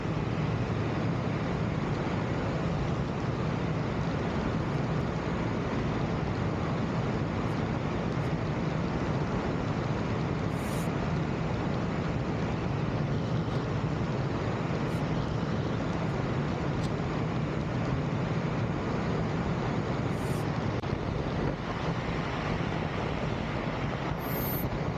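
Steady engine and propeller drone of an Aeroprakt A22LS light aircraft in flight during a low pass over a runway, a constant loud broadband roar with wind rush and no pauses.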